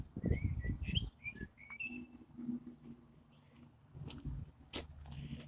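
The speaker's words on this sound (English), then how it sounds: "You can still hear the birds singing away." Birds, including a blackbird, chirp and whistle in short, high calls outdoors among spring blossom, fairly faint, with some low rustling and bumps underneath.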